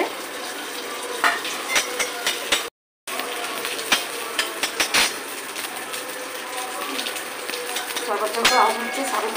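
Raw mango papad crackles as it fries in hot oil in a wok, with a busy, continuous sizzle full of sharp pops and crackles and a brief moment of silence partway through.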